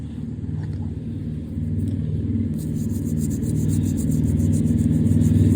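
Steady low rumble of traffic from a main road close by, a continuous dense drone that swells slightly louder partway through, with no talking.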